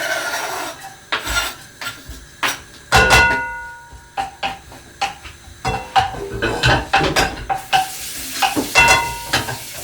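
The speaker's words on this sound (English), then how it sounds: "a little bit of heat on, and then we're going to chuck the garlic and chilli in there" Garlic and chilli stir-fry in hot oil in a pan for a Thai pork and aubergine dish, with sharp bursts of sizzle and repeated utensil scrapes and clatters against the pan.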